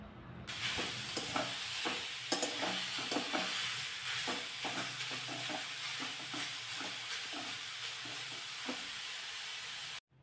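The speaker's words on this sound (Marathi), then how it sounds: "तर व्यवस्थित बीट अगोदर भाजून घेते" Diced beetroot dry-roasting in a pan for a Marathi beet stir-fry, a steady close hiss and sizzle broken by regular scraping stirs for about ten seconds, then cutting off abruptly.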